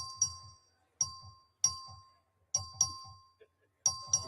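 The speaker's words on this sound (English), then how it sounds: "The clerk will ring the bell." A bell rung by a clerk for a legislative vote sounds in a series of short, sharp strikes at irregular intervals, each one bright and ringing briefly before fading.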